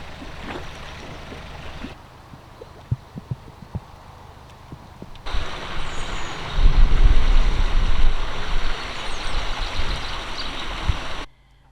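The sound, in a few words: water flowing at Tring Reservoir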